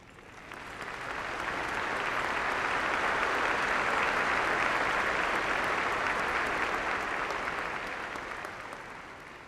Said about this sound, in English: Will the students involved in these programs please stand for our applause?